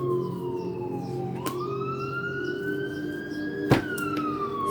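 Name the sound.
sirens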